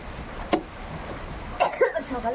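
A woman coughs a few times, indoors, one short cough followed by a pair of louder coughs near the end, with a faint background hiss.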